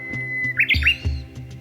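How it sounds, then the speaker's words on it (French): Songbirds in the Japanese countryside give a quick run of bright, close chirps and rising whistled notes. Soft rhythmic background sounds continue underneath. "Il y a les oiseaux du matin, les oiseaux du soir"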